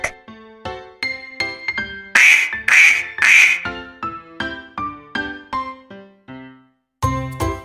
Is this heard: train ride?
no